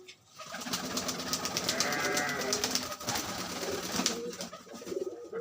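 Old Rajshahi Giriraj pigeons, male and female, inside a room: soft cooing runs under a rapid series of sharp wing claps, close and distinct.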